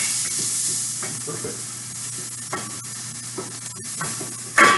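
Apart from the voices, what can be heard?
vegetables sizzling in a pan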